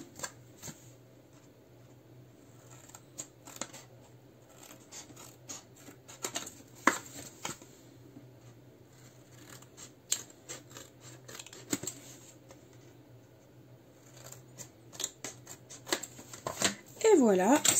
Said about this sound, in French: je vais tout simplement venir découper le long de ces traits